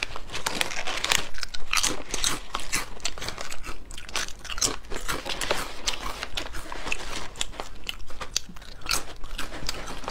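Seaweed-flavor yam chips being bitten and chewed up close, with dense, continuous crisp crunching and crackling bites throughout and no speech.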